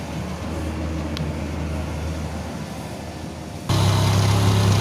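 A motorcycle being tested for a burnt or weak ignition coil idles with a steady low hum, then its engine note jumps abruptly louder and more rumbling near the end, close and alone without talk.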